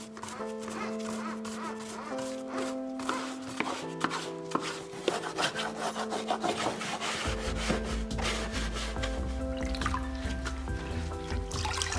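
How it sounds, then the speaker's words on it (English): A brush scrubs dry grass off a Husqvarna Automower robotic lawnmower in rapid, rhythmic scratchy strokes, close and steady, over soft background music. "Use a brush to remove dry grass."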